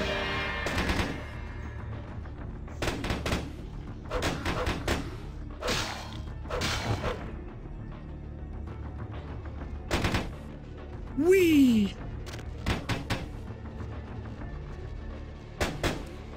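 Enemy gunfire in Vampire: The Masquerade – Bloodlines pops out in scattered single shots and short bursts over about sixteen seconds, moderately loud, with a swooping whoosh midway and a steady game ambience underneath.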